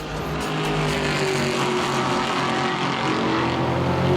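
A supercharged V8 engine of a sixth-generation Chevrolet Camaro ZL1 roars steadily and loudly throughout, a deep continuous growl with no voices.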